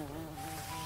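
A brief, steady insect buzz from a bee in a cartoon, continuous and fairly close, lasting under a second with no speech.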